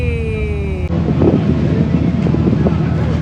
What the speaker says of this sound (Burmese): ဒါကတော့ free ferry ကိုဒီဘက်သင်္ဘောကနေပြီးတော့တွေ့ရဖြစ်ပါတယ်